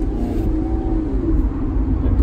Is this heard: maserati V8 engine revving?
yes